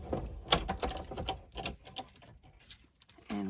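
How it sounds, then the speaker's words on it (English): A Stampin' Cut and Emboss die-cutting machine is cranked with dies and paper inside, making a run of quick, close ratcheting clicks and rolling crunches that taper off, followed by a short louder rasp. "I'm going to sandwich this up and run it through the Stampin' Cut and Emboss."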